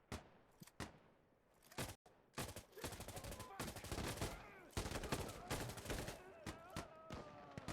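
Rapid gunfire from the tactical shooter Insurgency Sandstorm, with bursts of automatic fire and single shots in quick succession, sharp and close, continuing over several seconds with brief pauses.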